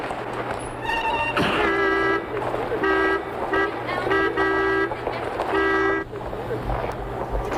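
Car horns honk in street traffic as a stream of short, repeated toots, several in quick succession, over a steady traffic rumble with voices talking nearby.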